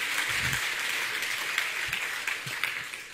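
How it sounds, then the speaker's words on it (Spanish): A church congregation at a Sunday service gives a soft, continuous wash of applause, faint and diffuse, with a few low thumps and no clear speech. "Le damos un aplauso al Señor"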